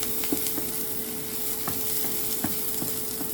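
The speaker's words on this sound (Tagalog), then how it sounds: "nilalagay na natin ang ating onion, chopped onion po to" Chopped onion sautéing in a hot pan, a steady sizzle and frying hiss with occasional scraping stirs, close and alone without talking.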